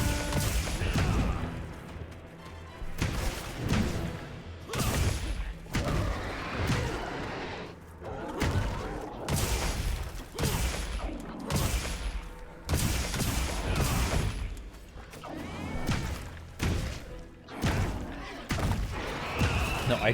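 Heavy hammer power smashes land on a monster in Monster Hunter Wilds, a string of loud booming thuds and crashes at irregular intervals under layered game effects.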